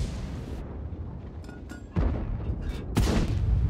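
Tank cannon shots in World of Tanks, two heavy booms a second apart, each a sharp broadband blast with a rumbling tail over continuous engine and battle noise.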